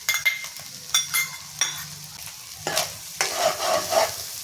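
Grated coconut fries in hot oil while being stirred, a steady crackling sizzle broken by several sharp scraping strokes of a spoon against the pan, close and clear, with no talking.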